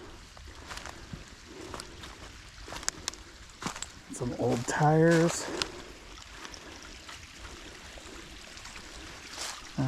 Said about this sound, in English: Here's the water feature.